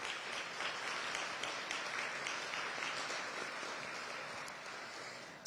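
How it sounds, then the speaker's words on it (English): A crowd applauds at an outdoor ribbon-cutting ceremony for a library bookmobile, steady sustained clapping lasting several seconds at moderate distance, with no talk over it. "Let's give them a well-deserved round of applause."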